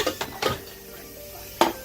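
A metal cooking pot clanks as it is handled for curry goat, a few sharp knocks spaced apart with a quiet stretch between them.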